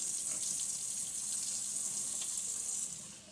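Tap water runs steadily from a faucet into a sink while Epson ET-2720 printer parts are rinsed, a close, continuous splashing hiss that eases slightly at the end, with no talking.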